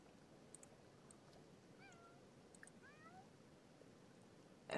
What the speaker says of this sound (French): Coucou, petit chat.